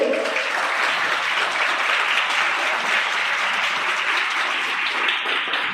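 A school audience applauds a teacher at a Hindi Diwas celebration, with steady, dense clapping from many hands that holds at an even loudness throughout.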